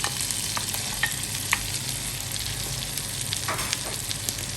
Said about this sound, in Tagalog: pwede na ngayon natin ihalo ang ating onion or ang ating sibuyas.